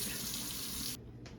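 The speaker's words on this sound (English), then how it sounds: "I'll wash my hands." Hands are washed under a running kitchen tap, a steady loud rush of water that cuts off abruptly near the end, then briefly resumes, with no voices.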